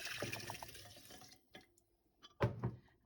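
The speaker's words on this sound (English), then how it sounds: "we're now going to pour that into this jug, or into this jar rather" Diluted alcohol and tea solution is poured into a jar, giving a faint splashing trickle that tapers off into a couple of soft drips and clinks near the end.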